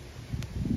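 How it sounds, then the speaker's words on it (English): Wind gusting outdoors on a breezy day during a picnic where homemade pizza is cooked on a Camp Chef outdoor stove; a short, soft, low rumbling buffet against the microphone, steady with slight swells, no voices. "Oof, that wind today."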